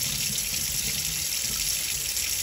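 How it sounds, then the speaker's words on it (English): Water runs steadily from a tap into a kitchen sink, a close, continuous hissing splash with no break. "And then all of a sudden it's closed and your sink is filling up with water."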